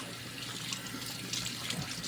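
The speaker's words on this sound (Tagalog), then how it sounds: "Siya ay babandian ko muna ng pinakulong tubig" Boiling water pours steadily over a whole octopus in a sink, a continuous splashing rush of liquid running for a couple of seconds at close range.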